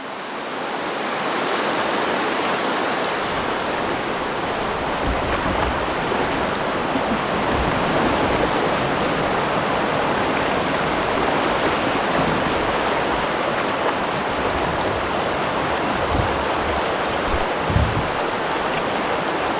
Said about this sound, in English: Looks like a pretty lengthy rapid, goes around the corner